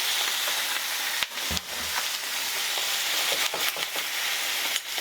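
Teriyaki meat fries in a hot pan with a steady bright sizzle, close and constant, broken by a few soft knocks and stirs.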